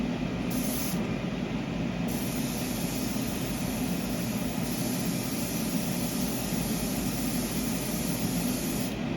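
Continuous loud hiss of champagne gold spray paint being applied as a second coat in one long, steady, close burst.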